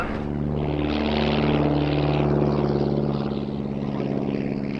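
A Spanish license-built Casa Jungmann biplane with a 150 horsepower Enma Tigre engine flies at an airshow, giving a steady, loud propeller drone with a strong buzzing hum that holds for the whole stretch.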